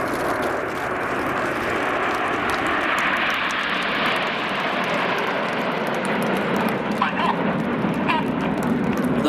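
Red Arrows jets roar overhead during a display at an airshow, a loud, sustained broadband engine rumble filling the whole stretch with little change in level.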